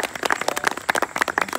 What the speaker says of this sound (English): Giving a big round of applause.